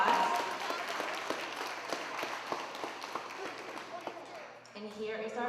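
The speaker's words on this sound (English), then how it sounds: "Give Amaya a big round of applause" Applause for a student at a school time capsule reveal, a crowd clapping steadily with scattered sharp claps for several seconds before fading, with some voices at the end.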